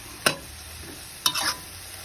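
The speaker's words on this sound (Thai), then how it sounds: "ต่อไปเราก็ผัดนะครับ" Pork being stir-fried with ponzu sauce in a pan, two short scraping stirs about a second apart over a faint, steady background hiss.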